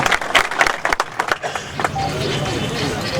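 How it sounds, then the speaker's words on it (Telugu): A gathered village audience at a panchayat building inauguration bursts into uneven, sharp clapping that quickly settles into a steady, diffuse crowd murmur. "అందరు గట్టిగా చప్పట్లు కొట్టి ఒకసారి పాలకవర్గాన్ని అభినందిస్తారని"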